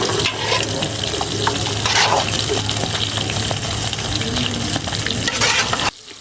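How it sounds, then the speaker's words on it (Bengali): Rohu fish pieces fry in a pan, a continuous loud sizzle with stirring and flipping scrapes, ending abruptly. "মাছগুলো এক পাট হয়ে গেছে এই জন্য আমি মাছগুলো উল্টিয়ে দিচ্ছিলাম"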